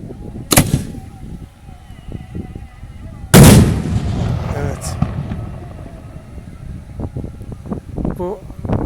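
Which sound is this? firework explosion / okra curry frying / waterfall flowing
firework explosion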